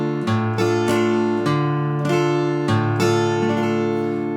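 Acoustic guitar in a lesson on Wayfaring Stranger, picking single bass notes on the first and third beats under sustained chord tones, each low pluck clearly attacked in a steady, unhurried rhythm, close and alone.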